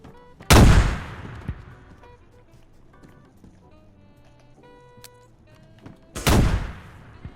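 Two loud grenade blasts in DayZ while raiding a metal-walled winter base, each a sharp boom with a long decaying rumble, separated by several seconds of quiet game ambience.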